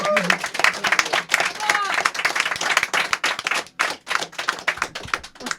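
A live audience at a Paris podcast show claps in a dense, uneven burst of applause that rises and then thins into scattered claps, with voices faintly underneath.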